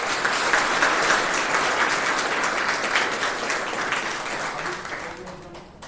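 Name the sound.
audience applause for successful student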